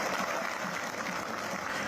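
Long applause from Catania football fans in a stadium, a dense, steady wash of clapping that stays loud and even throughout.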